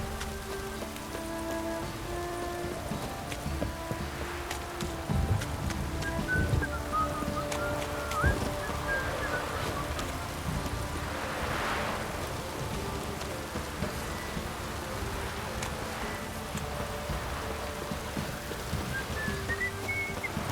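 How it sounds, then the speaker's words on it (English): Steady heavy rain pours down in The Witcher 3 video game, a dense constant hiss of drops on surfaces with a faint high whistling tone drifting through, and no one speaking. "This downpour's a bastard"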